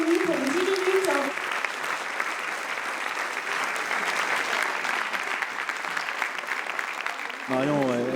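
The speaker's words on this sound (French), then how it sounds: "on peut l'applaudir, Marion Bartoli." An audience at a French event applauds warmly, sustained clapping filling the room while a voice talks over the opening and closing moments.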